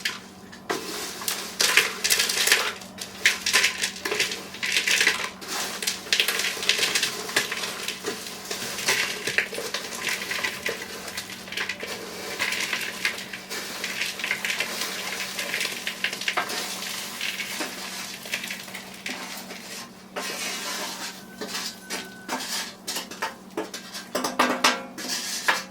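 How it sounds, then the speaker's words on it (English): Homemade cranberry granola is scraped and tipped from a sheet pan back into a bowl, making a long stretch of dry rustling, rattling clusters and repeated metal scrapes and clanks, close and busy, without any talking. "And they will get mixed in when I dump them back in the bowl."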